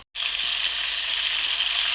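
Sea fish frying in a generous amount of oil gives a loud, steady hiss and crackle, starting abruptly after a brief silence and staying even throughout.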